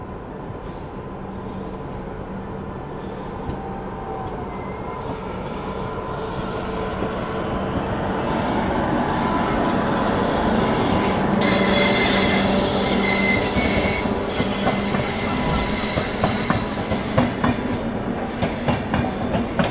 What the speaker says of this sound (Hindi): हमारी ट्रेन निकल जाएगी अलग रूट पे